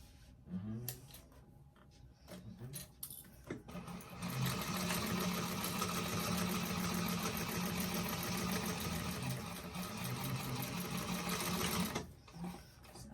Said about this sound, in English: you're going to go down each side with and baste it 1/8 of an inch